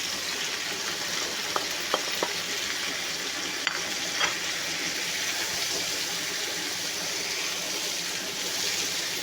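Spices tipped into hot oil for a homemade pickle sizzle and fry continuously, with a few sharp crackles and stirring scrapes early on, close and fairly loud with no talk.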